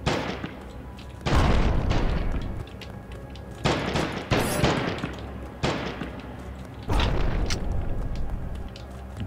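Gunfire in the video game Johnny Graves comes in loud booming bursts, several heavy shots and volleys separated by short gaps over a steady game background.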